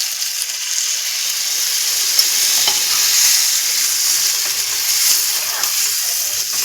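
Potato and pointed gourd masala stir-fries with a little added water, giving a loud, dense, continuous sizzle and hiss of steam that holds steady throughout.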